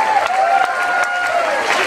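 Concert audience applauding and cheering at an indie pop show in a San Francisco club, a dense steady wash of clapping with whistles on top, close and loud throughout.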